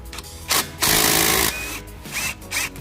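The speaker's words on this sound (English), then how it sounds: "So I'm gonna remove these 14 millimeter bolts, get them out of the way, so that I can release the caliper." Power tool whirring in short bursts while removing the 14 mm caliper bolts on a 2015 Infiniti Q40, with a long loud spin in the middle and shorter pulses before and after, close by.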